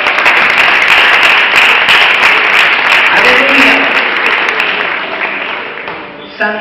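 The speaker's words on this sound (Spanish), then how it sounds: "Denle un aplauso al Señor" A church congregation applauds steadily at a worship service, a dense, loud wash of many hands clapping that holds for several seconds before easing off slightly at the end.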